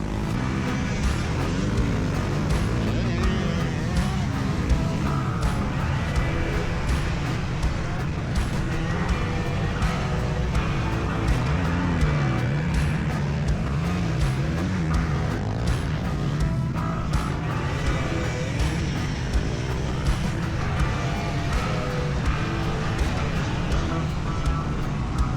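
Homemade and factory motocross bikes race through sand dunes in a gnarly off-road race, with a continuous mix of droning, revving engines at mid distance that rise and fall as riders charge past.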